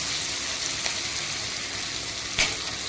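Soybean chunks fry lightly in oil with a soft, steady hiss, quiet and even, with a couple of faint utensil taps near the end.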